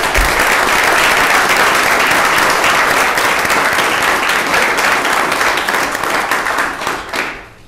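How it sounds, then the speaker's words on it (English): An audience at a township board of commissioners meeting applauds loudly and steadily in a dense burst of clapping that lasts several seconds, then fades out at the end. "So for that, we applaud her."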